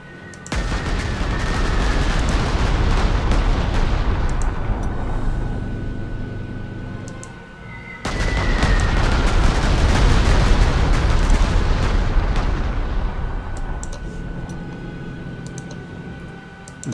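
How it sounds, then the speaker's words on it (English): Two long, heavy rumbling explosions from aerial bombing in the World War II strategy game Panzer Corps 2, each starting with a loud blast and slowly fading over several seconds, with a steady high tone running underneath. "So why not bomb these guys as well?"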